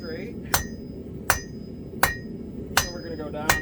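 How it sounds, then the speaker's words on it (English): Five evenly spaced, ringing hammer blows strike hot steel being forged into leaves, each a sharp metallic clang on an anvil with brief ringing decay, close and loud. "Nice blows with the hammer."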